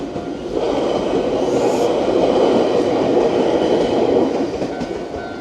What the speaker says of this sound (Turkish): Size de şuradan geçen treni göstereyim.